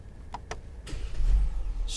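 Mercedes GLE 400d diesel SUV starting: two quick clicks, then the starter catches and the engine rises into a steady close idle.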